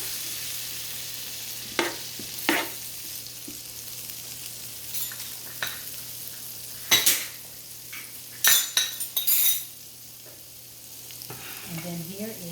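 Day-old rice stirred around a big skillet for Thai crab fried rice, a soft background sizzle broken by sporadic utensil scrapes and clinks against the pan, with a cluster of louder knocks near the end.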